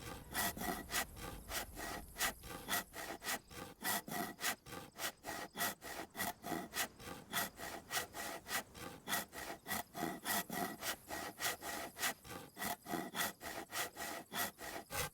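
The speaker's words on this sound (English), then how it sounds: "Next, I reached the plank pile and started sawing." Wood planks being sawn in the survival game DayZ on the Livonia map, a steady rhythmic rasping of repeated saw strokes, close and alone, about two strokes per second throughout.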